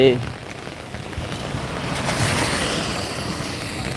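Hard, steady rain roars near a bus stand, a constant rushing wash that swells slightly toward the end with no break.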